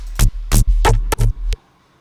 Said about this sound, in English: And then running it through distortion to give you that grittiness.